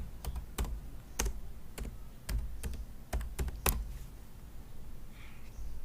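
Rapid keyboard typing on a computer while entering a voltage source name in Proteus 8 circuit software, a run of sharp, irregular key clicks close by over a low room hum, with no talking.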